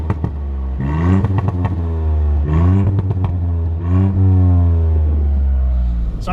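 A 2019 Mk8 Ford Fiesta ST exhaust roars as it accelerates in repeated surges, revs rising and dropping between gear changes, loud and close.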